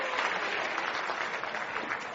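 An audience at a leadership talk claps hands together in a dense, steady burst of applause that stays loud and even throughout.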